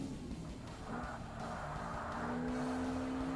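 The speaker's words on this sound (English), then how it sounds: "There's that delay again before the sound comes on from the engine." A Lotus Exige engine in the Forza Motorsport racing game, played on hard difficulty, drones steadily and builds slightly as revs climb, fairly quiet and continuous with a faint tire hiss and no talk.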